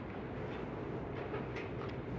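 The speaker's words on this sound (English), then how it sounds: "The train's coming." A train approaches in a steady, faint rumble with soft rhythmic rail clatter running throughout, with no voices over it.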